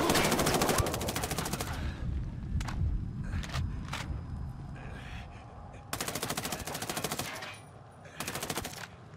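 Automatic rifle fire in the video game Ghost Recon Wildlands, with loud sustained bursts that come and go, several short separate shots between them, and a dense battle din running underneath throughout.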